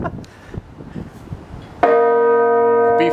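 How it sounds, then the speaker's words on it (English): A large bell in the Cathedral of Saint Paul bell tower is struck once, ringing loud and close with a long sustained hum, after quieter shuffling and faint voices. "I think that's an A bell."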